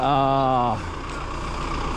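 A garbage truck at a landfill sounds a steady high reversing beep for under a second before it cuts off, leaving the rumble of the truck's engine idling nearby.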